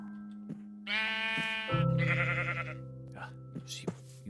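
A Minecraft sheep gives two loud, close, wavering bleats one after the other, with someone talking briefly beneath and around them.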